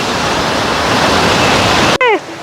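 A waterfall roars loud and broadband in the Kallattigiri area, a dense, constant rush of falling water that cuts off abruptly near the end as a voice begins speaking.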